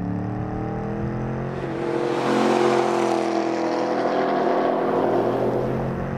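Engine of a 2013 Chevrolet Camaro SS with the 1LE package accelerating hard in second gear onto a track's front straight, a loud, steady rising roar with whirring drivetrain tones that swells partway through and holds.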